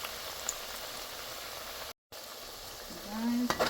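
Oil crackles and sizzles softly in a pan as plantain slices fry, then the bubbling grows louder near the end as more slices go in, with a short thump.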